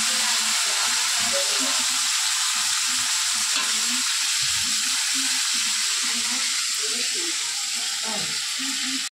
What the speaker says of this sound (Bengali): এগুলোকে ভেজে নিই।